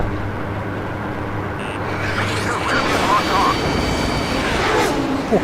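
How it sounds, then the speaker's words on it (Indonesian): A UAV drone aircraft flies in the Ace Combat 7 combat game, a steady airy engine roar with a faint high whine that swells slightly midway, while a voice talks over it. "Pesawat drone."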